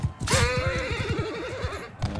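A horse in Mount & Blade II: Bannerlord gives one loud, close whinny that wavers and trails off over about two seconds, with a short snort or clop at the end.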